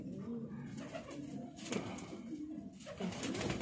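Breeder pigeons coo steadily in a home loft, soft throaty rolling calls overlapping one another at close range, with a faint voice briefly under them.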